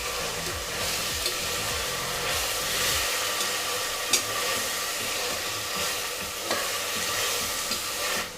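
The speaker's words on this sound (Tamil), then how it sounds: "இப்போ இதையும் கலரி விட்டுருங்க. இப்போ இதுவும் வதங்கட்டும்." Mint and coriander leaves sautéing in a pan while cooking crab biryani, with a steady close sizzle and frying hiss, stirring scrapes early on and a few clinks from the pan, and no talking.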